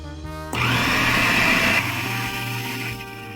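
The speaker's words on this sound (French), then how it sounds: "Je referme et je mixe encore une fois pour tout bien intégrer." Food processor spinning a flourless batter of chicken, eggs and baking powder: a sudden loud, steady motor whir that settles slightly lower partway through, with no talking.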